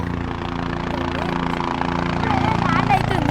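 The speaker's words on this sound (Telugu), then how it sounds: "ఇక్కడ అయితే హెలికాప్టర్ అయితే వచ్చింది చూడండి." A helicopter arrives near Kedarnath in heavy rain, its rotor producing a steady low rhythmic thumping with a whining engine tone that grows slightly louder, partly under people talking nearby.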